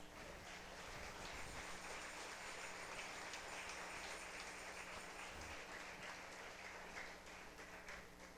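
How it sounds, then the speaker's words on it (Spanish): A church congregation applauding at a Spanish-language service, a steady wash of many hands clapping at a distance that holds for several seconds with no talk, faint and even. "Denle un aplauso al Señor."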